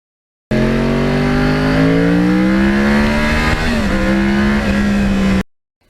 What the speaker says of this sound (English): Now, of course, the Crossplane has a very, very unique sound.